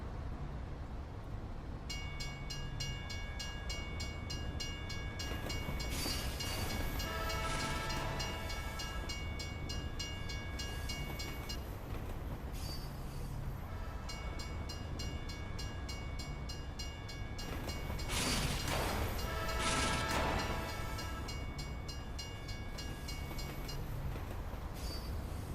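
Moving trains on a Team Fortress 2 map rumble steadily throughout, with two long bursts of high metallic wheel squeal rising over the continuous rolling roar, heard at a distance.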